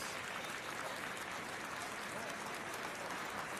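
Spectators at a speed skating World Cup in Milwaukee clap in a dense, even burst of applause that carries on unbroken, fairly quiet and distant as if heard across the arena.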